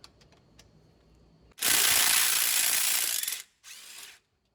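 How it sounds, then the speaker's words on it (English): A 3/8 drive impact wrench removing the 15mm top bolts of an A/C compressor on a Chevy truck V8 (5.3 or 4.8) gives a few faint clicks, then one long loud whirring burst followed by a shorter second burst, with no talk. "Those are going to be a 15mm. Again, I'm just going to use my 3/8 drive impact."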